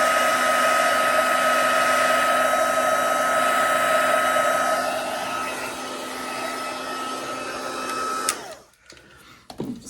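Heat tool blowing hot air to melt gold embossing powder on a card, a loud steady whirring hiss that runs close and uninterrupted before clicking off into near silence.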